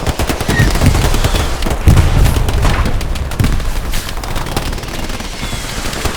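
Rapid bursts of machine-gun fire and scattered gunshots rattle continuously in the Hell Let Loose battlefield, loud and dense with a few heavier booms mixed into the chaotic firefight.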